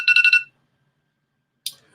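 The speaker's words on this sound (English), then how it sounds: "Let me get my alarm here." An electronic alarm, set by a cook demonstrating keto ice cream, beeps in a rapid pulsing burst of about four tones, followed after a pause by a short sharp chirp; loud and close, with no talk over it.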